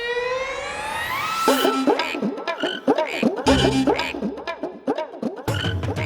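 Frogs croak in quick, bouncing bursts after a rising whistle-like tone, the calls close and fairly loud with short gaps between them.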